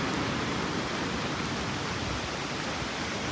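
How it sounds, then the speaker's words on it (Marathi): Steady, dense rain pours down outdoors near boats being readied for the sea, a continuous broadband wash with no breaks and no voices. "चला पाऊस लागता झाला."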